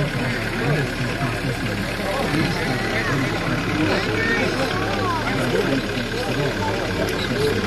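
A tractor engine idles at a steady, unbroken drone with an even rumble throughout, heard outdoors at a rural event.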